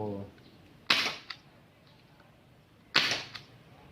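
Two sharp gas-powered long gun shots, the MK1 rifle after repair, crack out about two seconds apart, each a bright snap with a short tail over a quiet room; someone speaks faintly at the start.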